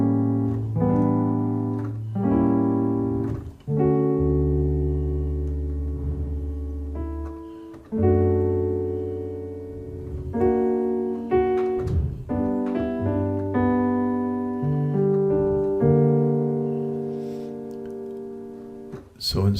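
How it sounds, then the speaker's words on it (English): A gospel keyboard plays a slow series of diminished chords, each held and sustained before the next one sounds, clear and close with no other sounds. "The song traditionally starts with a series of diminished chords,"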